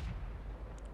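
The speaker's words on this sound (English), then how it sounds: "Shot misses, and you can see the gun is not especially accurate. They're the American 76mm guns for you." An American 76mm tank gun fires a single round that misses in World of Tanks, a heavy low boom at the start trailing into a rumbling tail, with a faint high chime near the end.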